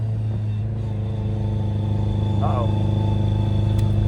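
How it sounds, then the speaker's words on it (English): A race car with an SR20 engine, recorded from inside on a lap as it begins misfiring, gives a loud, steady engine drone close up with no break. "Oh, misfiring. Why is that misfiring?"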